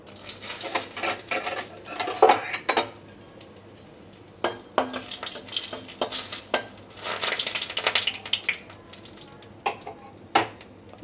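Dry red chillies and bay leaves tempering in hot oil, a steady close sizzle and crackle broken by repeated scrapes and clinks of a spoon against the pan.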